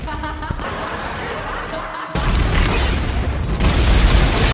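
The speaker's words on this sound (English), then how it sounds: "The theater goes up in flames, and the dynamite under the seats explodes." Dynamite explodes under theater seats in a film scene, a loud sustained roaring blast that surges even louder partway through, with crashing debris and burning.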